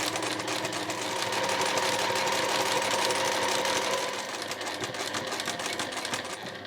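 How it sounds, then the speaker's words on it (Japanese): A sewing machine stitches around the pocket of a two-way cotton shoulder bag, running in a steady, continuous whir with a fast mechanical rattle up close, slowing slightly toward the end. "そしたらポケットの周囲を縫っていきます。"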